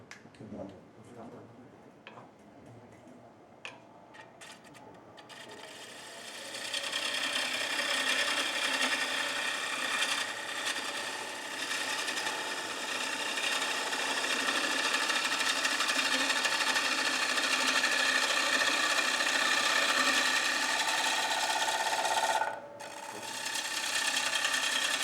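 A wood lathe turns a platter under a half-inch gouge, giving a steady loud whirring cut that starts after a few quiet seconds and runs continuously with a brief dip near the end.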